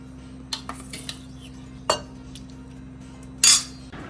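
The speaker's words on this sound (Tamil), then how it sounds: "இல்லை மில்க் மைட் போட்டு கலக்க போகிறோம்." A spoon stirs Milkmaid condensed milk into a dessert mixture, with a few sharp metallic clinks against the bowl spaced over a low steady hum.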